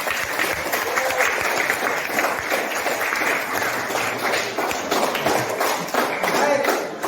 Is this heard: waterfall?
no